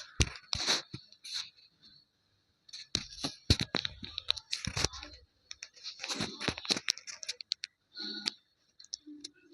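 Cloth being cut with scissors along a marked line, giving a series of crisp snipping and tearing strokes in uneven bursts, close by, with pauses between runs of cuts.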